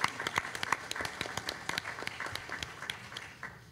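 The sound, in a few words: applause at a board meeting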